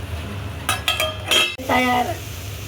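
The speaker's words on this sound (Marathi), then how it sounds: "ही भाजी आपण आता झाकण ठेवून वाफेवरती शिजवून घेऊ." A metal lid clanks and rings against a pot of tender hyacinth bean leaves cooking as a wild greens dish. Several sharp metallic clinks and a lingering ring sound over a faint background hum.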